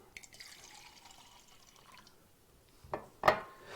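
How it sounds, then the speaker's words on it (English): Tap water is poured into a container, a faint trickle and a few soft drips followed by a brief louder splash near the end. "put a little bit of tap water in here."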